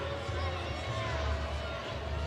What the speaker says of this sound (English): Crowd has opinions right now.